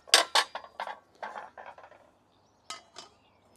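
A metal wok pan on a Fox cook station clanks and clinks as it is lifted on and off, several quick metallic knocks in a row, then a pause and two more clatters, no talk.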